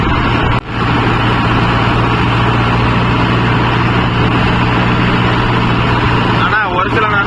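A Mahindra Yuvo Tech Plus 585 4WD tractor drives along a road, its engine a steady, loud, continuous drone with a low hum throughout, briefly dipping near the start.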